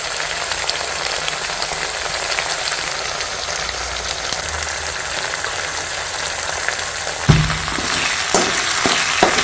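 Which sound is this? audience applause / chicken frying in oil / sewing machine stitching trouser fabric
chicken frying in oil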